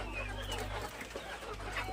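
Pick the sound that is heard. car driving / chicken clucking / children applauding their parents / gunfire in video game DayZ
chicken clucking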